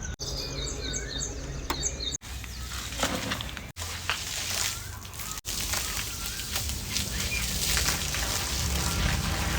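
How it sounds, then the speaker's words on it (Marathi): Running borewell water pours and splashes continuously, like a heavy stream falling onto a bathing body, with birds chirping faintly at the start. "आता एक करतो डायरेक्ट बोर चालू करतो आणि आंघोळ करतो"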